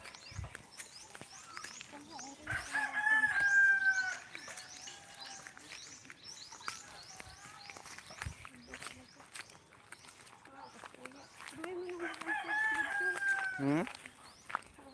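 A rooster crows twice, long and clear, near the start and again near the end, with hens clucking and small birds chirping around a rural farm field while people talk.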